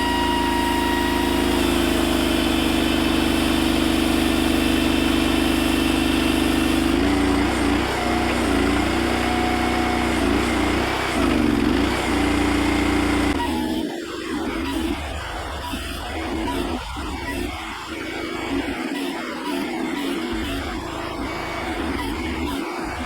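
Engine of a Halverson HWP-100 wood processor running steadily and loud, a droning motor with a lower, rougher stretch partway through as the machine works, no talk.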